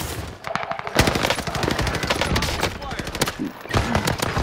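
Rapid automatic gunfire from a Call of Duty: Modern Warfare match rattles loudly and continuously in dense bursts, with a voice talking faintly underneath.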